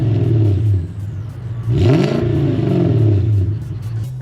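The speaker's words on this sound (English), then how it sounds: "I love the sound of the 1UZ, man" A Toyota pickup's 1UZ V8 engine idles with a low, even rumble, then revs briefly and rises before settling back to a steady idle, close and prominent.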